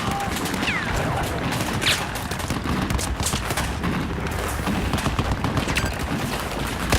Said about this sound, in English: let's shoot some bad guys